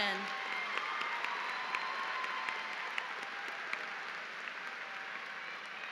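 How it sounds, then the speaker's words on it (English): Sustained audience applause at a high school graduation ceremony for Matoaca's class of 2023, a broad, even wash of many clapping hands from a large crowd, with faint scattered cheers mixed in and fading slightly over six seconds. "Please join me in a round of applause at this time for all of our amazing top 10."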